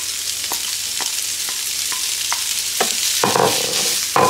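Bacon added to fried onion in a pan, a steady sizzle running throughout, marked by regular stirring scrapes about every half second and louder spattering toward the end.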